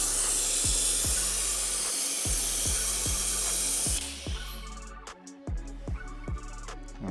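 Handheld brake bleeder tool pumped repeatedly on the bleed nipple of a car's brake system, drawing brake fluid through; a steady airy hiss gives way to a rhythmic series of sharp, evenly spaced pump strokes.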